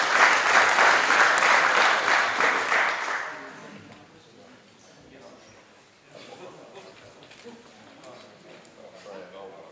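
Applause from the audience at a rally prize ceremony in Heinola, a dense burst of clapping that fades after a few seconds and gives way to a voice speaking over scattered residual claps.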